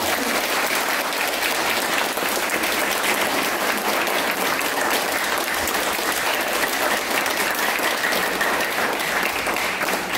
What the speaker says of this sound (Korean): 우리 김영상 대기자님께 박수 한번 부탁드립니다